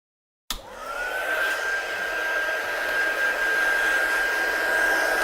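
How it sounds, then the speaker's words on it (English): A heat gun switches on abruptly and blows steadily, drying paint on a lamination project, a close, constant whooshing roar with a thin whine that holds for several seconds. "I'm just going to dry it off with my gun."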